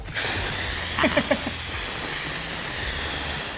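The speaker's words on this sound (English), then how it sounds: "we're gonna turn it over to a quick release." Steam hisses hard and steadily from an Instant Pot during a quick pressure release, a loud, close, continuous rush with a few faint clicks near the start.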